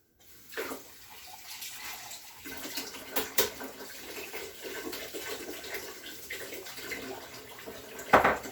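Running water rinses out a container that held sediment, a continuous splashing tap-like stream with some gurgling and a louder splash near the end, close by without speech.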